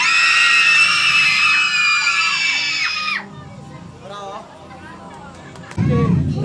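A crowd of people screams loudly on cue, a sustained shrill group shriek lasting about three seconds, followed by quieter chatter and scattered voices as a new burst of noise begins at the end.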